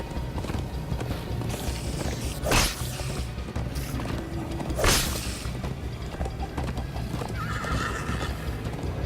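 Rhythmic clip-clop of galloping hooves with two loud whooshing swishes and a horse's neigh, over a busy Minecraft: Story Mode game soundtrack.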